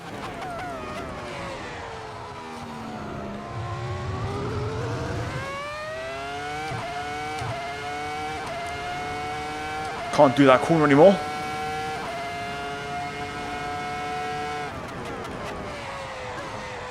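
A 2003 Formula 1 car laps the A1 Ring in Austria in a racing game, its engine note rising and falling through the gears, with brief tire squeal mid-lap and someone talking over it.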